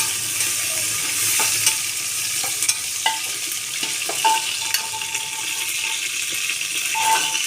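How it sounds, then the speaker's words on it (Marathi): Curry leaves, coriander and ground garlic paste sizzle in a pan while a spoon stirs them, with scattered scrapes and clinks over a steady frying hiss, and no talk. "थोडंसं हलवून घेऊया"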